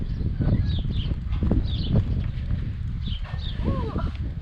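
Horse hooves clop at a steady walking pace on firm ground nearby while people talk and birds chirp faintly in the background, around a horse trick barrel used for practice.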